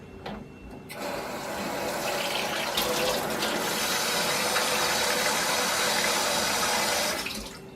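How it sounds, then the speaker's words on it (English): Hot water runs from a sink tap into an inverted chocolate mold, a loud continuous splashing gush that starts abruptly after a brief pause and stops near the end. "and I fill it up with hot water"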